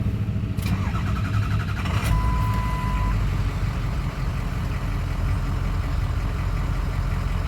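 Diesel engine of a 2004 Ford F-250 Lariat with the 6.0L Powerstroke cranking and starting: a short starter whir, then a loud, steady, rumbling idle nearby with a brief chime.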